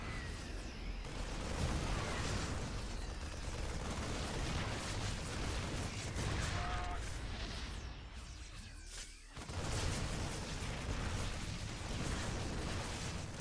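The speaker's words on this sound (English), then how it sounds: "Tank shots onto the Ravagers." StarCraft 2 siege tanks pound Ravagers in a dense barrage of shots and explosions. The booming, crackling bursts are continuous and overlapping, and the clamor dips only briefly.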